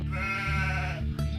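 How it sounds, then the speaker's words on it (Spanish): A lamb on a family farm bleating once in a long wavering cry, close and clear, with no talking. "En la chacra de mi familia tenemos corderos"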